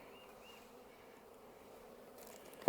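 Honey bees buzz in a low, steady drone from a beehive holding almost five full frames of bees, with a sharp knock near the end.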